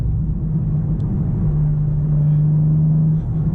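A 2023 BMW M4 CSL engine drones steadily from inside the cabin, its low, even rumble holding a sustained tone with a slight pitch step midway, as if shifting through the gears.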